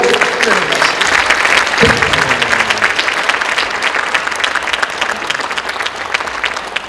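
A church congregation applauds steadily, a dense patter of clapping from many hands, with a voice speaking briefly over it near the start.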